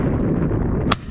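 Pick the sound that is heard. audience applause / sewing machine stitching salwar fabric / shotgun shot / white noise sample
shotgun shot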